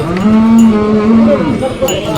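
A cow at a cattle market lets out a single loud, close moo lasting over a second, rising and falling in pitch, with a little background bustle.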